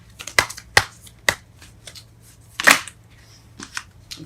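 Close, crisp snaps and flicks come from tarot cards as they are shuffled and drawn. Three quick card sounds are followed by a louder flutter and a few softer taps, and no one speaks.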